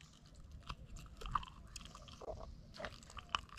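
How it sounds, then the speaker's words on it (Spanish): Snapper gulp live shrimp at the water surface, scattered quiet wet pops and smacks at irregular intervals against faint background noise. "todos esos que se escuchan tragar son puros pargos."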